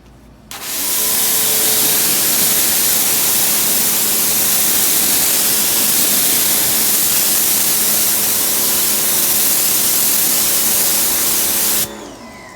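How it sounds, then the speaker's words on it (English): A sudden, continuous hiss of a sprayer blasting GYEON Bathe+ wash onto a car wheel, loud and close, starting abruptly and stopping just as sharply after about eleven seconds. "so now we'll spray this side"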